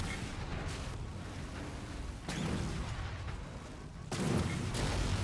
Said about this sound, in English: Hey, explosions.